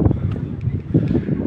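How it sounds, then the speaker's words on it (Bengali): Strong wind buffets the microphone at Guliakhali sea beach in Sitakunda, a loud gusty roar rising and falling in bursts, with no speech over it. "বাতাস সেই লাগতেছে ভাই, প্রচুর বাতাস"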